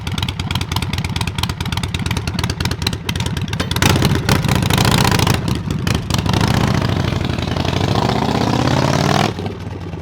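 A Harley-Davidson Sportster bobber fitted with a Bassani exhaust rumbles loudly up close, its lumpy idle giving way to revving and a sustained pull as it rides off, then fading slightly.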